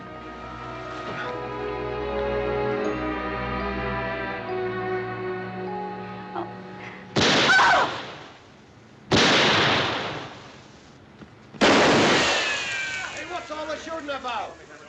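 Gunshots ring out in a western setting, three loud sharp blasts with echoing tails in quick succession after a stretch of music and dialogue.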